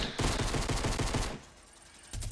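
Rapid automatic gunfire fired at a meteor in Fortnite, a fast rhythmic string of about a dozen shots, then a lull before another short burst begins.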